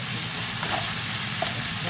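Food fries in very hot oil on high heat, a dense, loud, continuous sizzle with a few faint pops, close up and unbroken for the whole moment.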